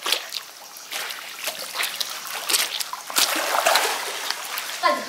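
Water splashing and trickling as people wade through it wearing onesies, with irregular sloshing bursts close by and speech-like sounds mixed in.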